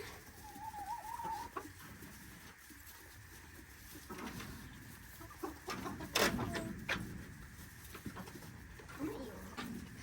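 Backyard chickens cluck and chatter while pecking at GrubTerra insect treats, soft close clucks scattered through the scene with a person speaking over them.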